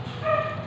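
A neighbor's dog gives a short yipping bark with a whimpering tone, close and moderately loud against a low background hum.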